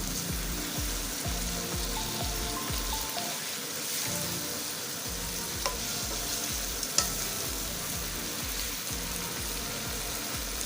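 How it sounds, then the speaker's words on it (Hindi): Beef frying in a pan with stock about to go in, stirred in a steady scraping rhythm over a continuous close sizzle, with no voices. "और इसमें बीफ डाल देंगे। और बीफ को थोड़ा सा हमने इसमें मिक्स करना है"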